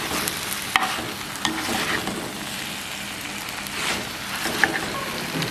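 Cuttlefish and chillies are stir-fried in a hot pan, giving a continuous loud sizzle with scraping stirs and occasional sharp spatula clinks.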